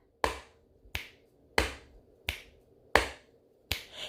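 A single person alternates hand claps and finger snaps in a steady clap, snap, clap, snap pattern, six crisp, close, evenly spaced hits with quiet gaps and no talking.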